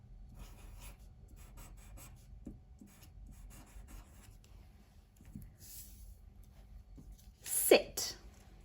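Pen scratching out words on strips of paper, soft intermittent rubbing strokes close by, with a brief louder rustle near the end.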